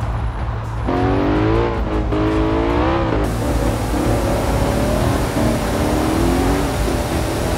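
A car engine roars at high speed through traffic, loud and close with rising revs and shifting tones, then settles into a steady rushing drone.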